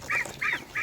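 Ducks being raised on a farm and eating bananas give three quick, nasal honking quacks in close succession, near and fairly clear.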